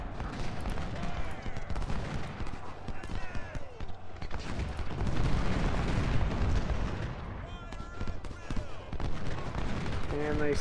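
Troops exchange gunfire on a Civil War battlefield in Ultimate General: Civil War, a dense rolling clatter of musket volleys and booming artillery that goes on throughout, with a voice talking underneath the din.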